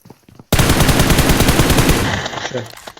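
Automatic gunfire in the video game PUBG erupts as a loud, close, sustained burst of rapid shots lasting about two seconds before a trailing echo, after brief quiet talk.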